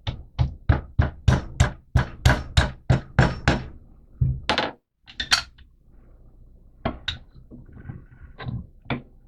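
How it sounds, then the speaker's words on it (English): A hammer knocks a pin out of a Thompson Contender .357 Magnum 15-inch barrel with a rapid series of sharp, close taps, then a pause and scattered lighter knocks and handling clatter. "Bigger hammer than I usually like to use."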